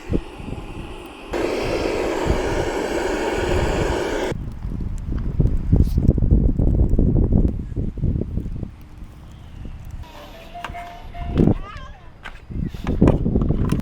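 Steady wind roars and buffets the microphone throughout at a campsite by the water at Fort De Soto, Florida, with a low rumble, occasional thumps and rustling underneath.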